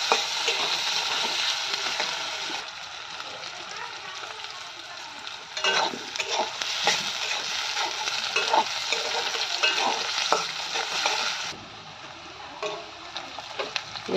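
Onions sizzle in hot oil in a slightly scorched wok, with scraping and clattering from steady stirring running throughout and a few louder spatula knocks; no talking.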